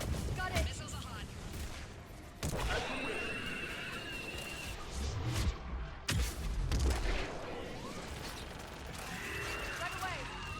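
Missiles launch in Mass Effect 3 with several loud booming blasts and whooshes amid ongoing combat noise, while voices speak over the action.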